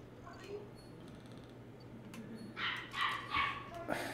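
A dog barks several times in quick succession near the end, fairly close and loud, after a stretch of low background hum and faint room noise.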